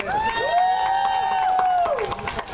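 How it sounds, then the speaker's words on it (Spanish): Crowd cheering and applauding for SBCC volunteers at an award event, a sustained loud mix of clapping and one long high whoop, with shouts near the end. "Así que se escuche por favor fuerte un aplauso para SBCC."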